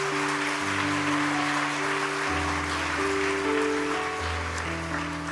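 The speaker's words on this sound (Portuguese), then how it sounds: "Aplauda o Senhor Jesus por isso." Church congregation applauding, broad steady clapping from many people over sustained organ or keyboard chords, with no speech.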